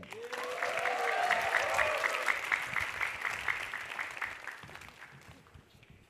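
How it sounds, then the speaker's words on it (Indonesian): A comedy show audience bursts into applause for a stand-up comedian, a dense wash of clapping that swells, holds, then gradually fades out over several seconds, with some cheering at the start. "langsung aja kita sambut tepuk tangan yang meriah untuk Ridwan Remin"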